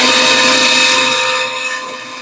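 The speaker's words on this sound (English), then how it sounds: "I am just going to take a little bit of this off real quick on the bandsaw." A bandsaw cuts a piece of Kydex sheet for a flashlight holster, giving a loud, steady whining rasp with a bright metallic ring that eases slightly toward the end.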